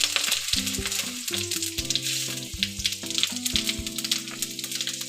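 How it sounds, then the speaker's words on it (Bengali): Two bay leaves, slit green chillies and whole cumin seeds crackle and sizzle steadily in hot oil for a vegetarian cabbage curry, a close, continuous spitting hiss with faint pops, though tonal music plays over it throughout. "এবার ওই তেলের মধ্যেই আমি দিয়ে দেবো দুটো তেজপাতা, চেরা কাঁচা লঙ্কা দুটো, আর দিয়ে দেবো গোটা জিরে।"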